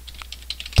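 Fingers tap out a short command on a computer keyboard in an Ubuntu terminal, a quick run of light, close keystrokes ending in a firmer press like the Enter key.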